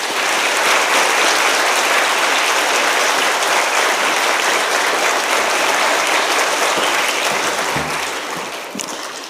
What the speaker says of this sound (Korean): 나오실 때 우리 뜨거운 박수로 환영합니다.